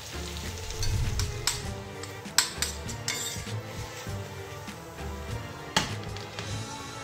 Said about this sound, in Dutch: Dus we nemen wat boter. Dat zijn jonge blaadjes spinazie. Dus de spinazie is al voorgewassen. Heel kort op bakken.